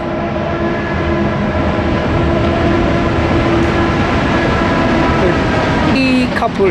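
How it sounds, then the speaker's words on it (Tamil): A train rumbles past steadily and loudly overhead in the hill country of Ella, Sri Lanka, a continuous rolling roar with tonal hum, and a brief squeal near the end. "ட்ரெயின் போகுது மேலே"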